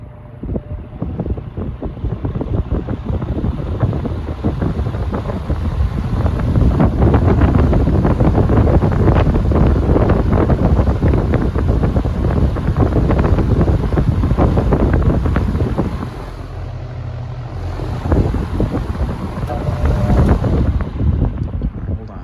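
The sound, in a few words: Vornado fan running on low setting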